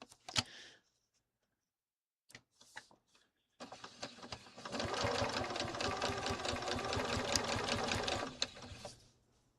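A sewing machine stitching a quilt piece runs in a steady, fast mechanical whir with rhythmic needle ticking for about five seconds, after brief quiet and a few short sounds.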